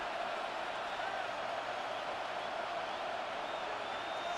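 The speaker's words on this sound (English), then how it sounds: "The Buffalo crowd being heard before 3rd down." Buffalo stadium crowd noise in Madden NFL 26 before a third down: a dense, constant roar of a large crowd held at an even level throughout, with a faint voice beneath it.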